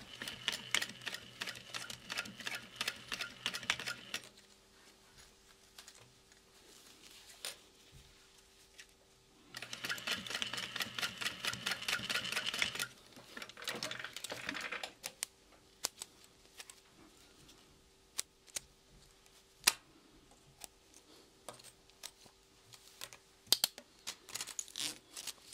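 A home sewing machine top stitching a fabric backpack, running in two rapid mechanical bursts of several seconds each, with quieter handling clicks and taps between and after them, close and moderately loud.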